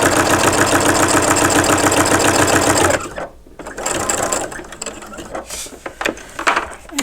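A sewing machine runs loud and close for about three seconds, stitching around the edge of an in-the-hoop coin purse with a rapid mechanical whir. It then stops, leaving quieter handling clicks and rustles.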